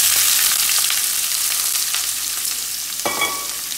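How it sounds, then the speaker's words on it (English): Onions and turmeric hit hot oil with mustard seeds and urad dal in a pan, giving a loud, steady sizzle with scraping stirs, followed by a brief metallic clink near the end. "Now I'm adding the turmeric and onions."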